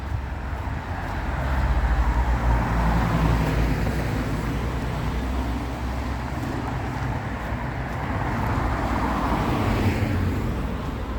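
Steady roar of road traffic crossing a bridge on the Averon Road, with vehicles rushing past in overlapping waves, swelling and easing without a break, no talk over it.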